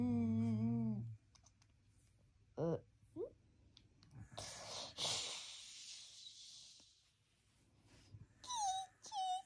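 A dog makes short whimpering, snorting sounds close by, in brief bursts among breathy noises and a few clicks, with people talking intermittently.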